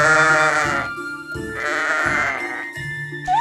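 Escaped sheep in a children's animated rescue story bleat loudly several times in close succession, nasal wavering calls overlapping one another with no talk over them.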